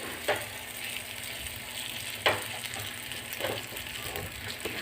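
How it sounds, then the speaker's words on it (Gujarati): A thin layer of semolina and raw cabbage batter sizzles in hot oil in a pan, a steady close frying hiss with a few sharper crackles and spatters. "આ રીતે હું ચમચામાં ભરી અને આ પેનમાં નાખી અને એકદમ સરસ એવું પતલું ફેલાવી લઉં છું"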